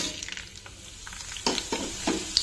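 Mustard and other tempering seeds sizzle and pop in hot oil in a pan, with a steady frying hiss punctuated by several sharp crackling bursts, close and moderately loud with no talking.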